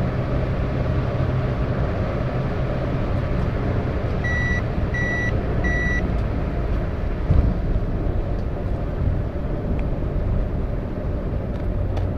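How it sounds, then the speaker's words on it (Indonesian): Heavy road traffic with large trucks on the Cipularang toll road, heard from inside a moving car: a steady loud rumble and wind roar throughout, with three short repeated reversing-style beeps partway through. "truk gedenya banyak, lagi banyak"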